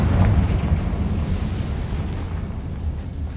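A Confringo fire spell explodes in Hogwarts Legacy with a loud, rumbling burst that peaks right at the start, then decays into a sustained, crackling roar for about three seconds.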